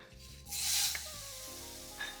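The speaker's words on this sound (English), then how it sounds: "Now add a hint of oil and then toss in the pork belly" Pork belly hits a hot oiled pan and sizzles loudly in a burst of hissing frying that settles into a steady, softer crackle. A small clink comes near the end.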